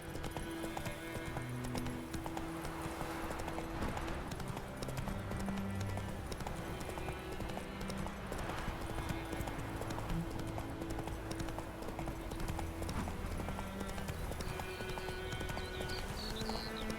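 Roach, the horse in The Witcher 3, gallops with rapid rhythmic hoof clip-clops throughout, close and steady, over a sustained game music bed.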